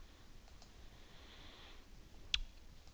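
A single sharp computer mouse click, quiet and close, standing out once from a low, steady background hiss.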